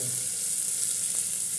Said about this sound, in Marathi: फोडणी बसत आहे